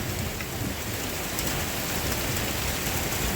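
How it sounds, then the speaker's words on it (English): Hail falls hard during a thunderstorm, making a dense, unbroken hiss and patter that stays constant and fairly close throughout, with no one speaking. "but here we get thunder hail"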